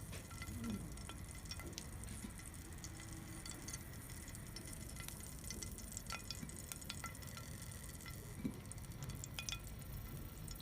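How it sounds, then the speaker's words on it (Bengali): Bread slices frying in oil that is not yet fully hot, for a quick Bangladeshi breakfast; a steady, soft sizzle and bubbling runs throughout with faint scattered pops and drips, no voices. "তেলটা একটু গরম হোক, দেন আমরা ব্রেডগুলো ছেড়ে দিব তেলে"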